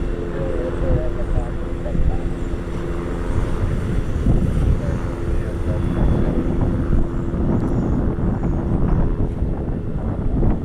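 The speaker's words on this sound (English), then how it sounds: "There's our mini tri-jet." Small tri-jet airplane at an airport, a continuous low engine rumble with wind noise on the microphone, steady and moderately distant, with a person talking over it.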